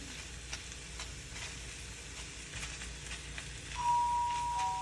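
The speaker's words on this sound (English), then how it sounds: "we're going to go ahead and add the rest of this cheese in here" Cheese being stirred into a cheese dip in a pan, a steady close scraping and soft bubbling sizzle throughout, with a brief tonal beep near the end and no talking.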